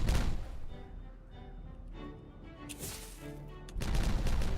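Explosions in the video game Timberborn: a loud blast at the start and another near the end, with a short crackling burst between them and quieter rumbling in the gaps.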